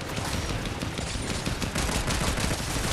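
Sustained gunfire from other players in a video game rattles loudly and continuously, with overlapping shots and bursts forming a dense fusillade.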